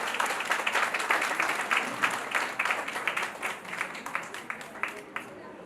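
Steady applause and clapping from an audience at a 25th wedding anniversary stage event, continuous and fairly close, with brief talk mixed in.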